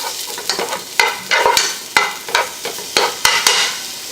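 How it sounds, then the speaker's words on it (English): Garlic and onions sauteing in a pan, with a soft sizzle beneath repeated sharp utensil clacks and scrapes against the pan at an irregular stirring rhythm, close and moderately loud, with no talking. "I'm just sauteing that. The garlic is starting to brown rather nicely"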